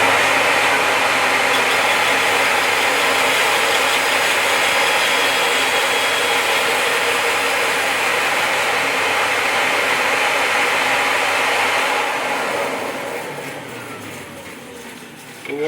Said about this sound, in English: So again, start the bandsaw up first.